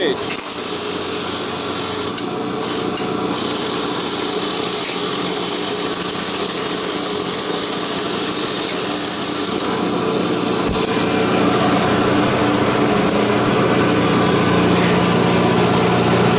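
An Abrasive Machine Tool Co. Model 3B surface grinder running off a VFD, giving a steady loud mechanical hum and whine that holds throughout, with a brief change near the middle and a speaking voice under it.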